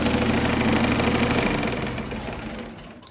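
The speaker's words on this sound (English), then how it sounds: "There's a little pop in there when I was lowering the RPMs" A John Deere 322 lawn tractor engine runs close and loud with a buzzy, knocking idle, then winds down in revs over the last second; the small pop is not clearly marked.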